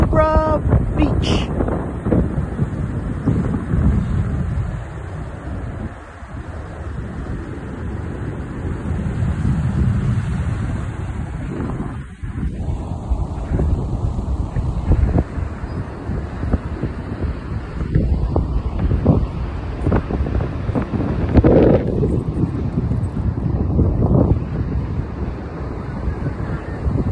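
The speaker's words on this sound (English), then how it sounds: "Look at the waves, it's insane." Surf rolls in at Maroubra Beach with strong wind buffeting the microphone, a broad continuous roar of waves building and breaking, while people talk and exclaim over it.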